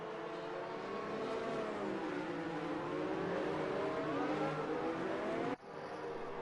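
Race cars in a Singapore Grand Prix racing game, a steady engine roar with shifting pitch that holds throughout, closing with a sharp change as one passes.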